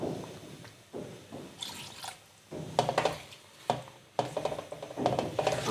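Water poured into a cooking pot of spiced chicken karahi, splashing and trickling in uneven bursts up close, with short pauses between pours and a quiet kitchen around it.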